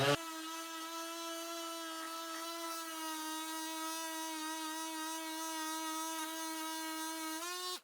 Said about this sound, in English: let's take our sander here.